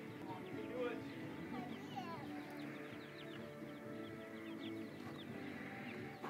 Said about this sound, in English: You gonna grab a chicken or what?